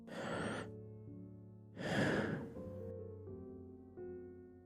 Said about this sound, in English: Let's take a breath together.